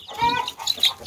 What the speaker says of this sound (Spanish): Aquí están mis primeros pollitos